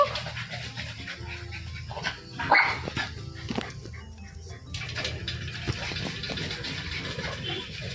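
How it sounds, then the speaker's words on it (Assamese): A dog barks nearby in a short loud burst, with panting and lighter yaps around it and faint birds in the background. "এইটো আমাৰ ওচৰৰ কুকুৰ"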